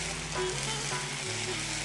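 Ginger garlic paste and curry leaves frying in hot oil, a steady close sizzle with a faint stirring scrape, no voices.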